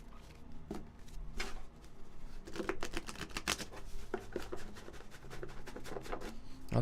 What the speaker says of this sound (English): Just shuffling when it's ready.